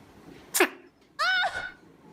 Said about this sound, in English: Have you ever heard an owl sneeze?